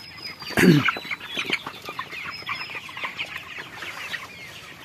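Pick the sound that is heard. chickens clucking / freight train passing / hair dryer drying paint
chickens clucking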